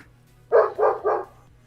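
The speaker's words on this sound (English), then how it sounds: "What you barking at?" A dog barks three times in quick succession, fairly close, with quiet background between barks.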